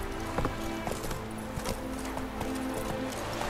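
Hooves of the horse Roach in The Witcher 3 video game, clip-clopping in a steady trotting rhythm at moderate distance with no talking.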